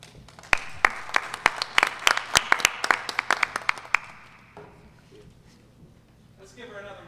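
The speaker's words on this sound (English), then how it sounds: "Let's give her another round of applause." Scattered hand claps from an audience at a STEM event ring out as sharp, separate, uneven smacks for a few seconds before fading, with a voice speaking afterward.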